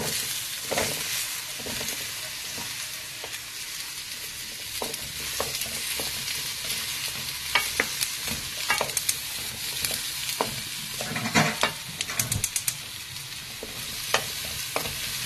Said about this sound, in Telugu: ఈ వెన్న కరక్క ముందే క్యాప్సికమ్ అంతా వేసేయాలండి.